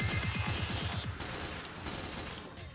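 Pistol fire in the video game Team Fortress 2: a fast run of rapid shots at the start, thinning into scattered pops and game noise, fairly quiet overall.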